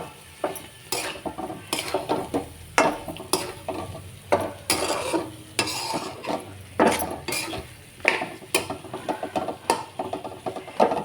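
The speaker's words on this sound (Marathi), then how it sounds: "चांगलं लसूण खोबरं परतून घ्यायचं" Garlic and grated coconut sautéing in a pan while cooking drumstick curry, with a spoon scraping and stirring in repeated sharp strokes over a soft, steady sizzle, close and clear with no talking.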